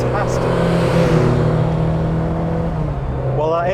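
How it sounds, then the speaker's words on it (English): A BMW E30 M3 reworked by Redux holds a loud, sustained engine drone with a slowly shifting pitch, heard close up and steady throughout. "While that engine sounds fantastic and delivers its power beautifully"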